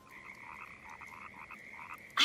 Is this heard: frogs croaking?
yes